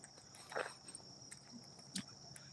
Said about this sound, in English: You hear the cicadas are warming up their song here.